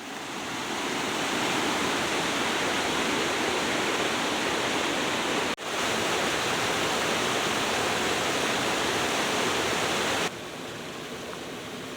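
A waterfall roars steadily with broad, constant rushing water noise that continues for the full twelve seconds, briefly dipping once.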